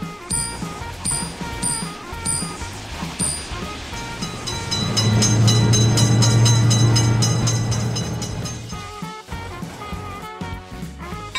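A quick train roars through a motor vehicle level crossing, building from a rhythmic clatter to a loud sustained rumble with a deep drone, then fading. Repeated bell strokes from the crossing ring steadily over it.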